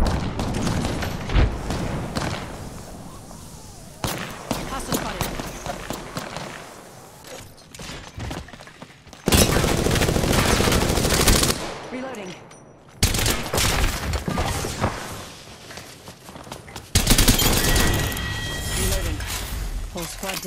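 Gunfire in Apex Legends on Xbox One X, with loud volleys of rapid automatic shots and heavy bursts coming in long stretches, broken by short quieter gaps, with game voice lines mixed in.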